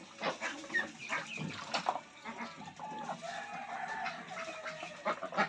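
Chickens cluck and squawk on a farm, several birds calling in quick overlapping bursts at close range with a rooster-like call among them, steady and fairly busy throughout.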